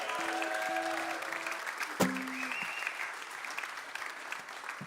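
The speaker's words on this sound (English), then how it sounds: "give Tom a round of applause." A live session audience applauds the bass player Tom, steady broadband clapping filling the room for several seconds with a few cheers and whistles rising over it, fading slightly toward the end.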